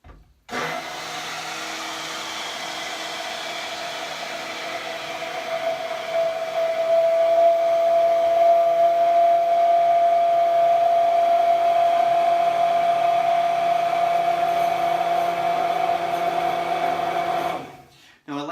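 A countertop blender whirs steadily, blending keto coffee with scoops of added powder, a sustained motor drone with a high whine that rises midway, running about seventeen seconds before cutting off abruptly.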